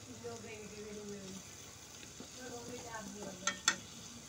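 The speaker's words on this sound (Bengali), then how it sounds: "ওটার জন্য মশলাটা কষিয়ে নিচ্ছি।" Spice paste for a prawn and greens curry sizzles and is stirred in a pan with scraping strokes, a close, steady fry with a couple of sharp clinks near the end and a voice briefly under it.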